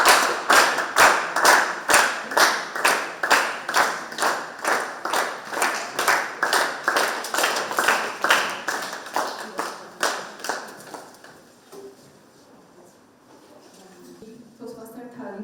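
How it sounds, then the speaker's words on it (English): Audience applause at a university speech competition: a quick, even run of loud claps for about ten seconds that then stops, followed by a quieter room with faint sounds. "Let's give her a round of applause."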